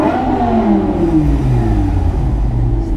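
A BMW M5 engine revs and winds down in a long throaty sweep on Sloane Street in central London, loud and close, with the pitch sliding as it changes.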